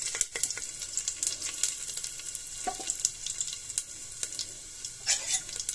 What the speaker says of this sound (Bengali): সব ফোড়নগুলো আমি একসাথে দিয়ে দিলাম